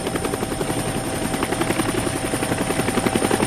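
Military helicopter in flight near the Cambodian border west of Saigon during the Vietnam War, 1969, its rotor beating in a steady fast chop with a constant whining drone, close and loud, no voices.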